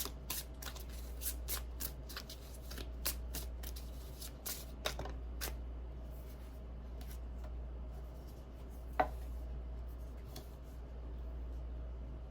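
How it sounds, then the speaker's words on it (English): Cards from an alien UFO deck being handled and pulled: a string of quiet papery flicks and riffles in the first five seconds, one sharp snap near nine seconds, and a steady low hum running underneath, with no talking. "I'll go ahead and just pull 3 cards from this deck as well."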